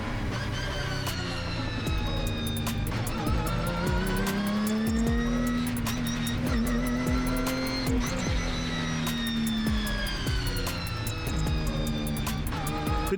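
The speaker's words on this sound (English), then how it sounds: "the Britcar cars came through to start their race" Britcar race cars start their race at Spa-Francorchamps after a rolling start. Several engines roar and rev loudly together in a sustained, dense wall of sound, with pitch rising and falling as the cars accelerate and pass close by.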